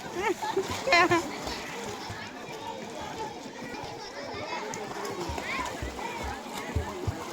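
Water splashes and churns in a swimming pool while children play and shout nearby, their voices and splashes mixing in a lively, continuous wash of sound.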